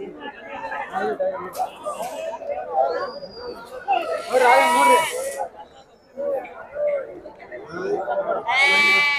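Several sheep and lambs bleat loudly in bursts amid a crowd of people chattering at the Sira sheep market, the bleats rising above the busy background.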